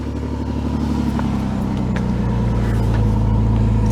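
A 3.0 liter V6 car engine idles with its door open at a city towing and recovery auction, a loud, steady, even rumble with no talk over it.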